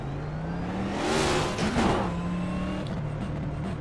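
Race car engine in a video game oval race, a sustained droning whine that swells and rises in pitch as it revs, with another car's engine passing close by midway, no talk.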